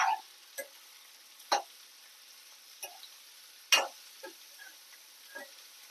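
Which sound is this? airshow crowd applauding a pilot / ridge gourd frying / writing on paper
ridge gourd frying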